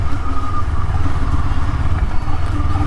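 A Honda CBR250RR motorcycle with a racing exhaust runs close and loud, a deep, rough throbbing burble with steady uneven pulses, idling without clear revs.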